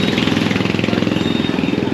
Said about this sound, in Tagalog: Side mirror ang maingay.